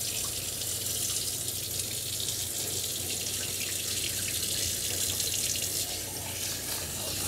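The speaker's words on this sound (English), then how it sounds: "I'm going to give this a quick rinse." Rice is rinsed in a pot under a running kitchen tap: a steady, loud rush of water that continues unbroken throughout, with no voices.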